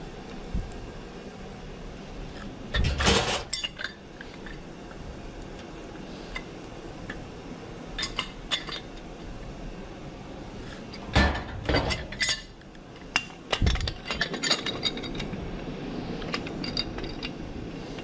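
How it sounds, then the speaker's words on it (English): Metal parts of a household gas valve being put back together and tightened, heard as scattered light ticks and clinks with a few sharper metallic knocks in short bursts against quiet background, no talking. "I'm going to put it back together. I'm going to tighten this up."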